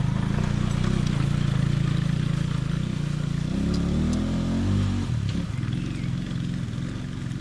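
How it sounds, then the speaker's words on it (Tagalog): A motorcycle passes on a rural road beside a stream, its engine drone rising and shifting steadily over about seven seconds, loud and close throughout with no talk. "Bukid to pero may mga motor."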